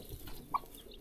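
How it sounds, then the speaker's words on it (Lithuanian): A hen in a small farmyard gives a single short, faint cluck partway through, set against quiet outdoor background noise with no talking. "Tai va, višta."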